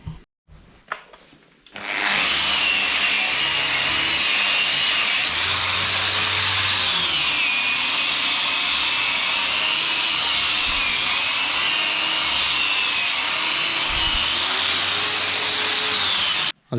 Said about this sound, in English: we'll sand down that one and sand down that one as best we can